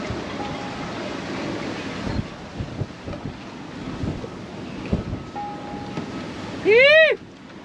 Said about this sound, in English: Way reefed down and 21 knots of wind.